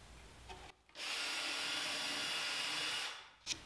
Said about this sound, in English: I take a drill bit and drill 4 holes on each side